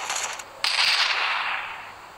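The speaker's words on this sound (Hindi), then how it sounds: "वो कहाँ से गोली चला रहे" Gunfire in the video game Forces of Freedom, a burst of rapid shots followed by a loud blast that decays into a long noisy tail.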